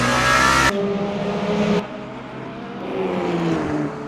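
A race car engine in Le Mans Ultimate drones and shifts pitch as it slows under braking with the front left tire locking, with a short harsh burst at the start; game-like engine audio, no voices.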